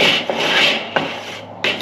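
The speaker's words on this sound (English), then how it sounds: "take my wooden scraper and just give these a quick scrape, just to get any of that juju off from the last cook" A wooden scraper rasps across a Weber grill grate in three quick strokes, close and dry, each scrape a rough rubbing sweep separated by short pauses.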